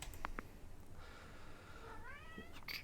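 A cat meows in the video game Remains, with a faint rising meow near the end after a couple of short clicks, all over a quiet low background hum.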